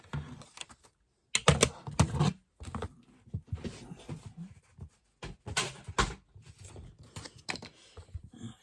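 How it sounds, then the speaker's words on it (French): Scissors cutting paper for a vintage tag: a series of close, crisp snips and rustles in short bursts separated by brief pauses. "je vais finir de couper au ciseau"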